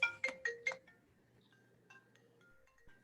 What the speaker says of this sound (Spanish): me está sonando el teléfono